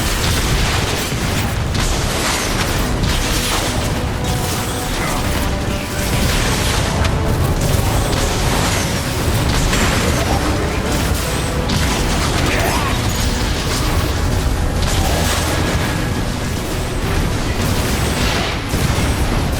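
Repeated heavy explosions and bursts as Decepticon barrels blow up in Transformers: War for Cybertron, mixed with continuous loud battle noise and crashing debris that never lets up.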